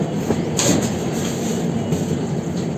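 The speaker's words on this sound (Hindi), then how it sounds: "and train is turning towards right" Rajdhani Express passenger train running on rails in an AC 2-tier coach, a steady, loud rumble and rattle from inside the carriage with faint rhythmic clatter and no speech.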